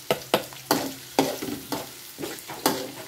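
Ginger sizzles in a pan with garlic and onion for pork bopis, with a spoon scraping and stirring in about eight sharp strokes over a steady frying hiss, heard close up with no talking.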